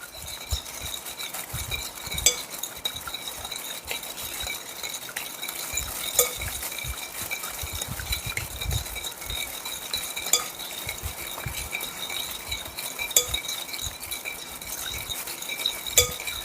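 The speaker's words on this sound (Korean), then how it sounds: "그래서 좀 저어주세요. 녹을 수 있도록 골고루 저어주시고," Noodle sauce seasoning stirred in a bowl with a utensil, steady close scraping and light clinking against the dish, repeating rhythmically with no talking.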